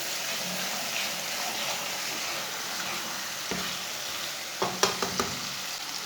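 Tomatoes cooking in a pan for aloo matar curry produce a soft, even sizzle and bubbling hiss, with a few quick spoon knocks against the pan near the end.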